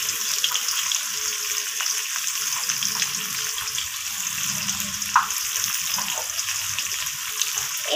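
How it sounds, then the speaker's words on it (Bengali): Potatoes sizzle and crackle steadily in a hot pan, salted and dusted with turmeric, while a utensil stirs them now and then, with a few sharper scrapes and no talk. "এরপর আলুগুলোকে ভালোভাবে লাল লাল করে আমি ভেজে নেব নাড়িয়ে চাড়িয়ে"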